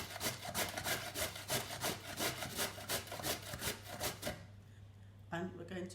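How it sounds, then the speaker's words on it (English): Sweet potato is grated by hand against a grater in a home kitchen: a quick run of rhythmic rasping strokes, close and clear, stopping about two-thirds through before a brief faint rustle. "First thing we need to do is grate the sweet potato."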